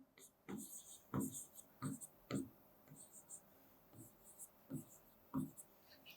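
Maths is written by hand on a board or paper, a string of short scratchy strokes and taps in uneven bursts, fairly soft and close, with faint speech in the background.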